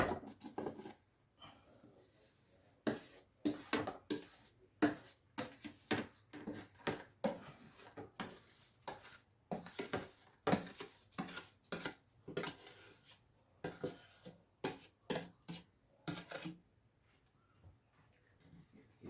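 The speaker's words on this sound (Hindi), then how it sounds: "ये सूजी जो हमने भुनी थी वो अब हम इसमें मिक्स कर रहे हैं।" Roasted semolina being mixed into a batter for baisan ki tukriya, a run of close, uneven scraping and clinking strokes of a utensil against a pot, with brief pauses between bursts.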